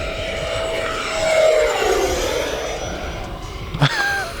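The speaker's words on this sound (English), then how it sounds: "give it a full throttle pass down the runway" E-Flite Viper 90mm electric ducted-fan RC jet makes a full-throttle pass down a runway, a high whine rising and sweeping past with a Doppler drop before fading, a short knock near the end.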